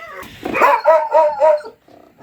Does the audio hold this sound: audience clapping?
no